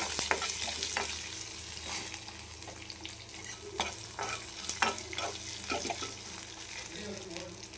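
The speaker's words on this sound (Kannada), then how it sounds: "ಫ್ರೈ ಮಾಡ್ಕೊಂಡ್ಬಿಡ್ತೀನಿ ಇವಾಗ" Ingredients for village-style leg soup frying in a pan, a steady close sizzle with stirring scrapes and occasional clinks throughout.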